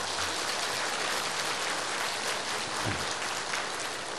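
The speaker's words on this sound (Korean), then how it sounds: "여러분 응원의 박수 한번 보냈으면 합니다" A church congregation at a Liberation Day Sunday service applauding together, a dense, steady wash of clapping held at even volume from start to finish, with no voices standing out.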